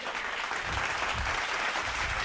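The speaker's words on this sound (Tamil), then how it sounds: "கைத்தட்டு அவருக்கு." Audience applause fills a church gathering during a pastor's evening message, a steady, dense wash of clapping that holds at an even level throughout, with no talk over it.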